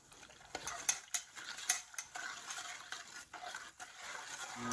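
Summer sausage seasoning and cure salt are stirred with water in a bowl, making close, wet scraping and clinking utensil strokes in an irregular rhythm.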